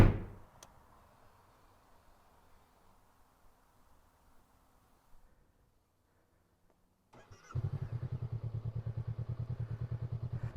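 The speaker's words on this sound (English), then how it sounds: "So let's take our first ever video test ride with the NX." Honda NX500 motorcycle starting up after a quiet stretch, then settling into a steady, rhythmic idle pulse heard close by, with faint mechanical clatter earlier and no talking.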